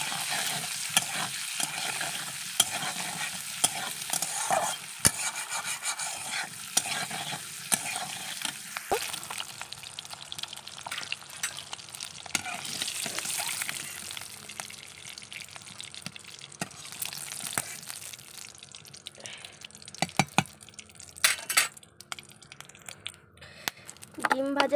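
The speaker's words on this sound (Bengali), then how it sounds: "অল্প একটু হলুদ গুঁড়ো দেব, অল্প একটু লবণ দিয়ে দেব, দিয়ে লাল লাল করে ভেজে নেব ডিমটাকে।" Whole boiled eggs frying in oil with turmeric and salt, a dense crackling sizzle with stirring and spatula scrapes, loud at first and then thinning into sparser pops and clatters near the end, with a voice talking over parts of it.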